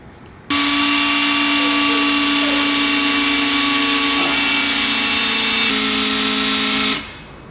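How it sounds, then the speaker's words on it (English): Impact wrench zapping on the axle nuts of an Evo 8 during a transfer case swap, one sustained loud whirring burst of about six seconds with a slight pitch drop near the end, no talk. "We're zapping on the axle nuts."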